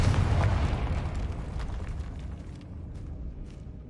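A Confringo blasting spell in the video game Hogwarts Legacy lets off a loud explosive boom that rumbles and slowly fades, with faint crackles in the tail.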